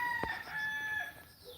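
A black chicken (karinkozhi), a native breed kept for laying, crows once in a short, clear call under faint background noise.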